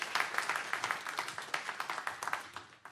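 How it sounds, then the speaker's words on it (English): Applause at a council meeting, a few dozen people clapping steadily for a few seconds, fairly faint and slightly distant in the room. "Let's give her a round of applause for a great job that their department does."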